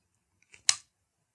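A Colt New Army revolver's cylinder indexes with a quiet, close mechanical click, a faint tick followed by one sharp snap in an otherwise silent space.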